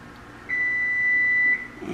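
A kitchen timer gives one sustained electronic beep of about a second while curry chicken and rice are cooked, standing out clearly over faint kitchen room noise.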